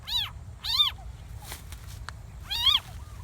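A cat meows three times outdoors, clear and fairly close, with short pauses between cries and a faint low rumble underneath.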